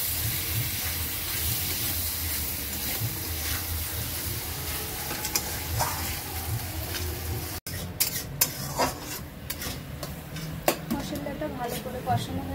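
Tomatoes frying with spice paste in a pan, with a continuous sizzle and hiss, stirring scrapes and pan clatter that grow busier partway through, with talking over it.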